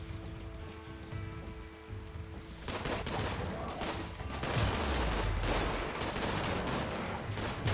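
Turret gunfire during a raid in the game RimWorld: dense rattling bursts of shots kick in after a quieter start and keep going, loud and continuous with mechanical clatter.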